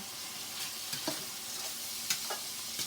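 Onions and ground beef cooking in a pan for gluten-free beef stroganoff: a soft, even sizzle with a few light spatula scrapes and taps, fairly quiet and with no talking.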